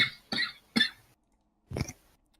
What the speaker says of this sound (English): Good coughing fit